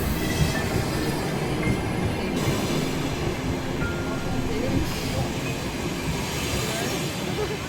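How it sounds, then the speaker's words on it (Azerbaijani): A passenger train runs along the rails on a trip through Karabakh, a steady rumbling roll with faint wheel clatter and thin squealing, heard from close up. "Və artıq qatara minib geri qayıtmaq vaxtımız gəlib çatdı."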